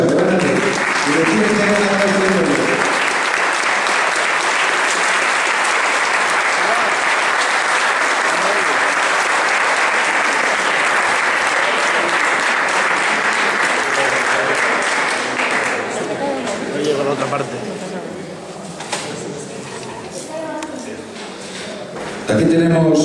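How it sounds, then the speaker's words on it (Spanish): Crowd at a 2017 fan gathering in Villarrubio applauding a musician, a loud, dense, sustained burst of clapping that fades after about fifteen seconds into lighter claps under a voice. "Vamos a dar un aplauso a este hombre porque se lo merece"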